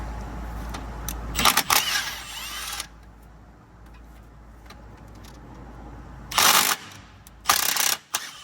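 Ratchet with a 15mm socket on a wobble extension removing bolts during an A/C compressor replacement on a Ford F-Series 6.4L truck: a few short, close bursts of clicking at the start and again near the end, with quiet shop noise between.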